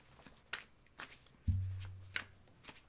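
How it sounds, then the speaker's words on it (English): Tarot cards shuffled by hand in a live reading, a few soft riffling bursts spaced about half a second apart, with a low hum passing through partway. "Go ahead and shuffle."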